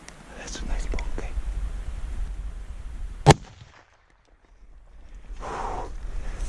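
A rifle shot fired at a bull elk during a rut hunt cracks out as one sharp, loud report midway, preceded by quiet whispered talk and outdoor rustle, then a brief hush before ambient noise returns.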